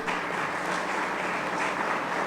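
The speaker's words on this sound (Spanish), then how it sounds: "un fuerte aplauso." Audience at a forum on electricity reform giving steady, dense applause, many hands clapping evenly at moderate distance with no voices standing out, continuing unbroken throughout.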